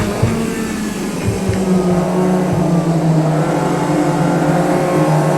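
Race car engine accelerating hard out of a corner at around 94 mph, revs climbing loudly and steadily with a sustained close-up roar as the tyres briefly spin under power.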